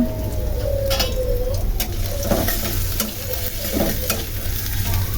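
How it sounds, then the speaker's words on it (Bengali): Food lightly frying in a pan on a gas stove before prawns go in: a steady, soft sizzle with occasional stirring scrapes, while pigeons coo faintly in the background. "একটু হালকা ভেজে নেব, নেওয়ার পরে চিংড়িগুলো দেব"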